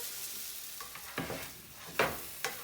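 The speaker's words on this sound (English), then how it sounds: "I'm just gonna put my spatula under the bread and flip." French toast sizzles softly in a frying pan as a spatula scrapes underneath and flips the bread, with a few sharp scraping strokes and a clack over a quiet hiss, close by.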